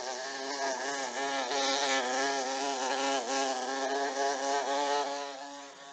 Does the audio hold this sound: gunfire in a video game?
no